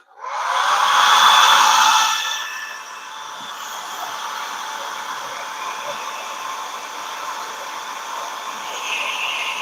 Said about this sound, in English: Back to the old Mama's hair dryer.